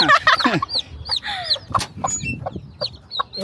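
A hen clucks low and steadily among seven newly hatched black-and-white chicks, whose high, rapid peeps chirp close by throughout.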